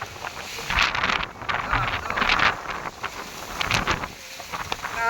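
Heavy wind rushes through trees in Ramdhari as the weather abruptly turns stormy, a loud continuous roar buffeting the microphone with repeated gusting swells and no pause.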